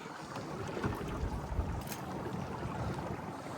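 Strong wind roars steadily over the microphone aboard a fishing boat, a dense continuous rush with gusty swells and no voices.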